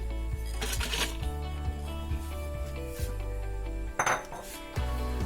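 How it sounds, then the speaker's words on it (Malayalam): Crushed chickpeas tipped into a large bowl in a kitchen, with soft scraping and clinks of a spoon against the metal bowl and occasional louder clatters over a steady low hum. "ക്രഷ് ചെയ്ത കടല വലിയൊരു പാത്രത്തിലേക്ക് ഇട്ട് കൊടുക്കാം."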